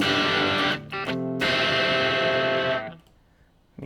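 Distorted electric guitar jams through stereo unison plugins, playing dense sustained chords with brief choppy gaps before fading out near the end, loud and alone.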